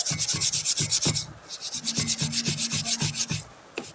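Rusty metal scissors are scrubbed in quick back-and-forth strokes, giving a steady, close, rasping rhythm that pauses briefly and then resumes.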